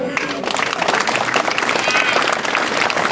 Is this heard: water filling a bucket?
no